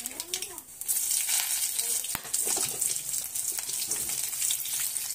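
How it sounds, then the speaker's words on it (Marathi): Green and red chillies frying in oil in a pan for South Indian lemon rice, a steady bright sizzle with occasional stirring clatter and a brief clack, heard close up. "ह्यातच आपल्याला हिरव्या मिरच्या देखील भाजून घ्यायचे।"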